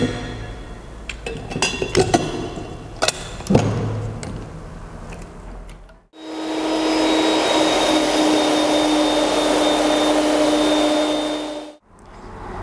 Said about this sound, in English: Put a small amount of thinner in the cup and run it through the gun.